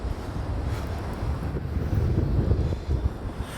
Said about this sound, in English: Ooh, it's windy.